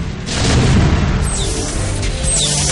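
Tanks blowing up in a real-time strategy game: a heavy booming crash swells early, then lingering rumble and scattered smaller bursts trail off under a steady battle din.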